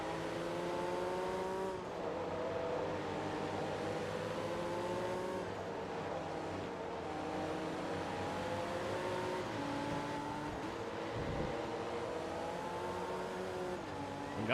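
Race car engine in Forza Motorsport 2, revving steadily with rising and falling harmonic tones as gears shift, a continuous moderately loud drone with brief dips between changes.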